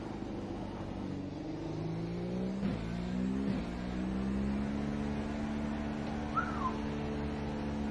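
A McLaren Honda MP4-30 Formula 1 car in iRacing at COTA gives a steady, close engine drone. Its pitch rises and falls with the throttle, with brief shift blips around the middle and no voices.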